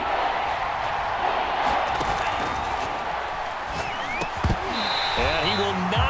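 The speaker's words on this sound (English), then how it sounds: "The crowd getting into it as we come up on a big third down." Stadium crowd in Madden NFL 22 roaring ahead of a big third down, a loud continuous wash of cheering with a few sharp thuds and whistle-like tones, a commentator's voice mixed in.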